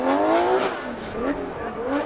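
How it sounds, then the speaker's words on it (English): BMW drift car at a Formula Drift event in Long Beach, engine revving with quick throttle blips and a hint of tire noise, heard from a distance as a short burst. "You can hear him kind of blip the throttle, stay in it."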